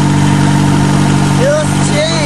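The engine of a 1995 Geo car with a blown engine runs loud and close in a steady, rough mechanical drone with a strong low hum and faint whining chirps riding on top.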